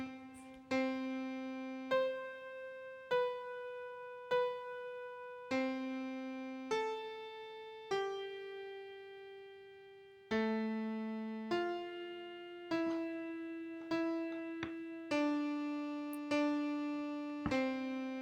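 A simple melody played on a clear, piano-like instrument in slow, even minims, each held note struck and left to decay before the next, with soft chord tones beneath; solo and close, no voices.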